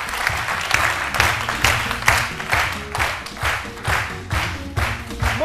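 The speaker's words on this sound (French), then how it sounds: "que je vous demande d'applaudir très fort" Studio audience on an Ivorian television talk show clapping for a guest, bursts of applause swelling and fading in rhythmic waves over a low musical bed, fairly loud and without talk.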